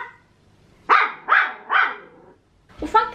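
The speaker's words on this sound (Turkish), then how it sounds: "Agresif bir köpek." An aggressive dog gives three sharp barks in a row with a growling edge, close and loud, followed by another short burst of barking at the end.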